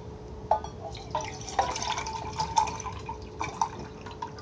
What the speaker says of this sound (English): Now we're going to take our tin cup, put some water in this.